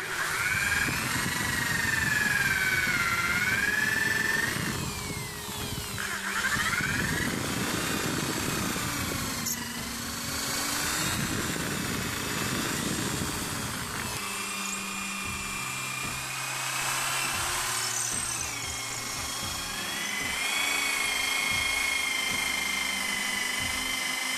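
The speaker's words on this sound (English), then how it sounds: "Once the centrepiece has basically been cut out with the drill piece" A high-pitched drill whines steadily for a long stretch, its pitch rising and falling as it bites into material, loud and close, cutting out a centrepiece for a prop plasma rifle build.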